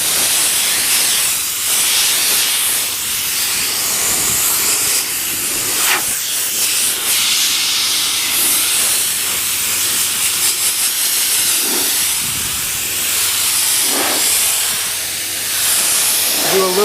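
Compressed air blasting steadily over a car's lower body panels during a wash, a loud continuous hiss lasting throughout with brief surges and shifts as the nozzle moves.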